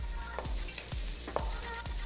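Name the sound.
oil and cumin frying in a pan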